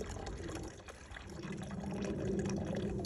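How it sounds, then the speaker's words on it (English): Water pours steadily into a deer's bucket to refill it with fresh water, a continuous splashing fill lasting about three seconds, close by, with no talking. "I'm gonna put a little bit more water in his bucket."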